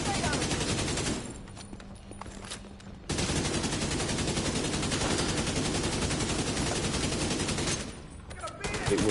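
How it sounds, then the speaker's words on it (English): Sustained automatic AK rifle fire in the shooter game The Division 2, loud dense bursts with a short lull and then renewed heavy shooting. "This AK hits hard."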